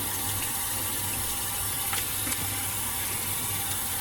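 Steady rush of running tap water as a qiviut wool garment is rinsed flat, a continuous close splashing flow at moderate level without talk.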